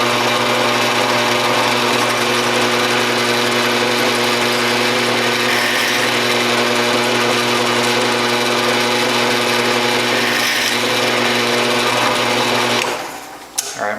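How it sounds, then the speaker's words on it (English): A steady, close mechanical whine from a drill boring holes in aluminum tank attach brackets on an RV-7 aircraft wing runs continuously for the whole stretch, then cuts off abruptly near the end. "now I can go ahead and drill these other holes"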